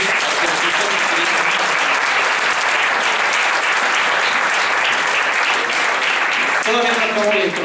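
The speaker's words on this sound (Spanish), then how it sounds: "¿Por qué no le das palmas al Señor Cristo?" A church congregation claps together in worship, dense sustained applause filling the room throughout, with a voice briefly rising near the end.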